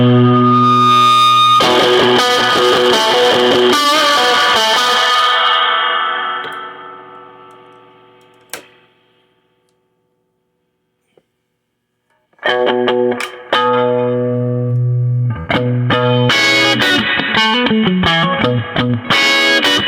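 An electric guitar plays through an Ampeg Gemini amp with reverb, loud chords and notes ringing out and decaying in a long tail into near silence, then the playing resumes hard and bright.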